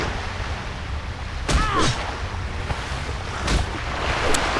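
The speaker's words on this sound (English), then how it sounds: "The water is loud here" Surf washing onto a World of Warcraft beach, a steady loud wash of waves with a few brighter splashes and gusts rising over it, no voices.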